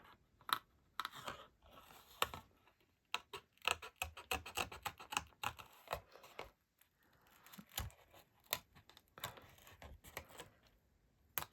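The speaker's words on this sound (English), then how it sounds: "I use these Pergamano scissors mainly because I can get into the little detail" Pergamano scissors cut detail from a stamped card, making a long run of quick, close, irregular snips and clicks that bunch into dense bursts with brief pauses.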